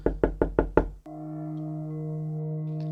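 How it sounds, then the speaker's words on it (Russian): Five light, evenly spaced knocks on a wall sound close and crisp, then give way to a steady, sustained low drone that holds to the end. "я слегка постучал по ней, пытаясь воспроизвести тот звук, что слышался ночью"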